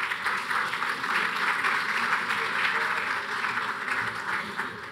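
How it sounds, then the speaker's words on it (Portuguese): Steady, dense applause from an audience at a conference panel session on private-sector participation, a continuous wash of many hands clapping at fairly close range for about five seconds with no pauses. "Uma salva de palmas, por favor."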